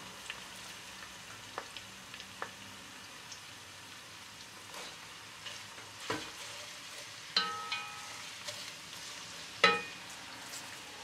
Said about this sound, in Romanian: Adăugăm varza pe care am tocat-o.